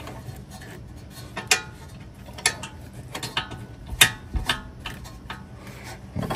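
Metallic clicks, taps and ratcheting scrapes sound up close as a bolt is worked back into an adjustable rear control arm on a car, irregular light knocks under quiet mechanical fiddling.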